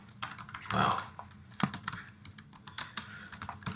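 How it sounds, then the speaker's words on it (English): Text is typed on a keyboard, giving a close, steady run of crisp key taps at an irregular pace, with no talk. "Now I'm going to go ahead and type in some text."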